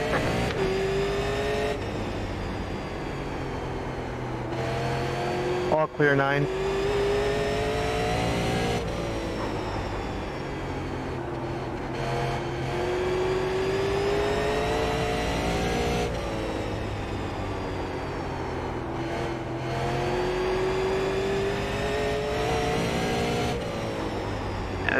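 Super late model race cars lapping South Boston in the iRacing simulation, a steady high engine whine rising and falling with gear changes under acceleration, loud and continuous, with a brief radio call heard over it.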